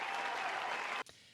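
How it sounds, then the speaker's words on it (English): Loud, sustained applause from a crowd at a State of the Union address fills the room, then cuts off abruptly near the end, leaving a brief faint tail. "The applause goes for the fact that they heard from constituents and they listened."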